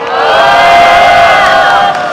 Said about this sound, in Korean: 신명나는 폭물로 인천 촛불 시작을 힘차게 열어준 폭물패에게 다시 한번 뜨거운 박수 부탁드리겠습니다.